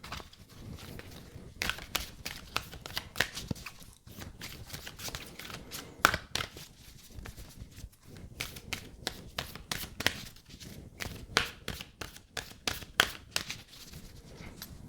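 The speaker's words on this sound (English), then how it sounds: "And shuffle the cards." Rapid riffling bursts of cards being shuffled up close, repeated in quick crackling runs with brief pauses between them.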